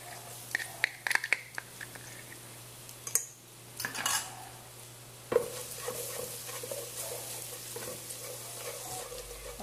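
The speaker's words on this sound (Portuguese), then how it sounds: "Coloquei uma colher de banha. Vou colocar o alho. E agora deixar dourar tudo muito bem." Garlic fries in a spoonful of lard in a pan with a low, fairly quiet sizzle, broken by clinks of a utensil against the pan and a few louder stirring scrapes.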